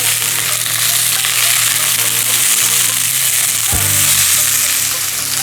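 Fish cakes sizzle and spit steadily in a hot frying pan, a loud continuous hiss with a brief knock near the end as they are turned, no voices.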